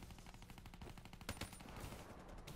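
Peacekeeper rifle fire in a video game, a quick run of evenly spaced shots in fast rhythm, quiet and distant in the mix, with a couple of sharper cracks partway through.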